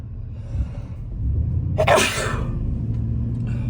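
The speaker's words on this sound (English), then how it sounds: "I'm gonna sneeze." A man's single sharp sneeze bursts out close and loud midway, over a steady low rumble like an idling car, with no talking.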